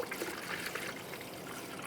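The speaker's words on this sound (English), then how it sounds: "Now we're going to add the appropriate coolant," A 50-50 coolant mix poured through a funnel into the coolant reservoir of a 1996-2002 Toyota 4Runner, a soft, steady liquid trickle that runs continuously and quietly, with no talking.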